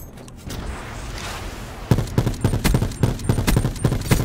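Automatic gunfire in Call of Duty: Black Ops 4, a steady stream of close, punchy shots in a quick regular rhythm after a noisy lead-in.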